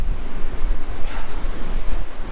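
Steady wind gusting across an open coastal landscape photography spot, a continuous loud rushing roar with buffeting on the microphone and no speech.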